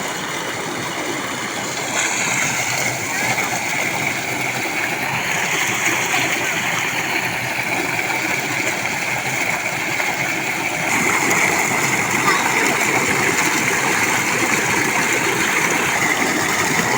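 Boys bathe under the gushing outflow of an electric tube well in a village, water pouring and splashing continuously and loudly with a steady engine-like hum beneath, no clear talk.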